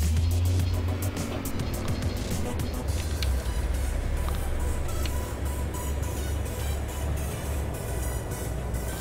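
Car engine in the City Car Driving simulator, a steady low drone as the vehicle cruises through city streets, continuous and fairly loud with occasional clicks and a voice speaking over it.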